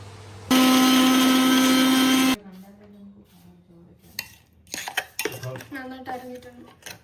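Mixer grinder jar grinding ginger for chicken biryani: a loud, steady, high whir that runs for about two seconds and stops abruptly, followed by clinks and clatter of utensils and jar handling.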